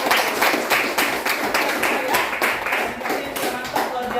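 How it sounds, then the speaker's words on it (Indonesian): Students in a mathematics class clap for a presenting group, a few sharp rhythmic bursts of clapping from a small room of people, with some voices among them. "tepuk tangan dulu untuk kelompok"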